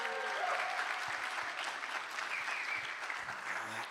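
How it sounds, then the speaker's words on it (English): Steady applause from a tired panel audience at an AI-in-finance conference, a dense wash of clapping that holds evenly for about four seconds with no talk over it. "Come on, give me a clap, give me something"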